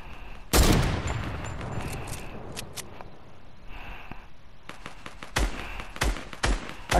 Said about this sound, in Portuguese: Atira no cara que ele tá atirando aqui embaixo